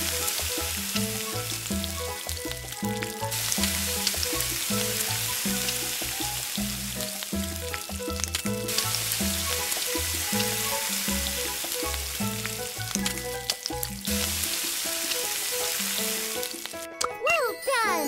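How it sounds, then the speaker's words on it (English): Steak frying in a pan, sizzling steadily and loudly throughout, with the hiss swelling and easing in waves beneath a background music-like pattern. "Temperature to cook a steak just right."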